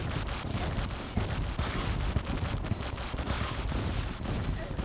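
Rapid gunfire from shooting rocks in the video game Terraria, a dense crackling barrage of shots going on continuously with a few sharper bursts.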